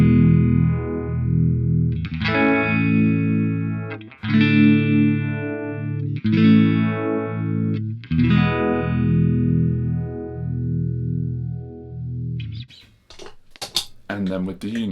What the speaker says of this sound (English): now if we turn them all the way down, and we'll hear what the slowest rate of both of these pedals sounds like